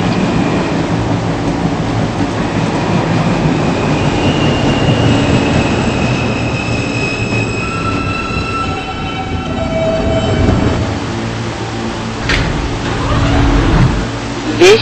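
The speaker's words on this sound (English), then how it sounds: "is a Ditmars Boulevard bound N train" An R160 N subway train in the Roblox game rumbles steadily along the track, with rising and falling motor whines, squealing tones and a closing hiss near the end, loud and continuous.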